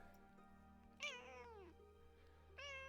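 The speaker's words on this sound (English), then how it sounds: "And my cat is rubbing against my legs." A pet cat meows twice, loud and close, in a long drawn-out call followed by a second shorter one, over a steady low electrical hum in an otherwise quiet room.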